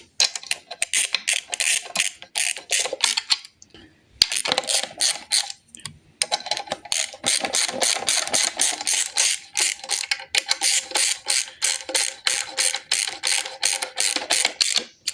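Ratchet wrench tightening the cylinder head bolts on a Fiat 1.3 MultiJet engine during assembly: rapid, steady clicking in long runs, broken by two brief pauses, close and fairly loud with no talking.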